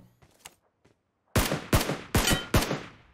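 Four loud, evenly spaced gunshots crack out in PUBG Mobile, close and sharp with short decays, after a stretch of faint clicks and quiet game sounds.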